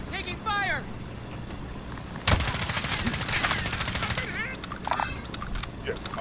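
Automatic gunfire in a shooter game: a loud burst breaks out and continues as rapid, dense volleys with intermittent shots afterward, while a player's voice talks over the action.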